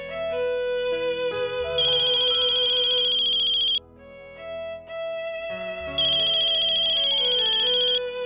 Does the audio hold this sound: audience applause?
no